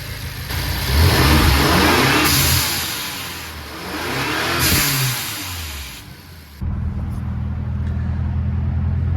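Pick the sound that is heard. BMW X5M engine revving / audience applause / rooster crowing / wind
BMW X5M engine revving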